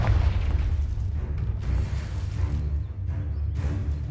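A Confringo fire spell bursts in Hogwarts Legacy, a deep booming explosion with a rumbling low end that rolls on for several seconds, then several further dull thuds.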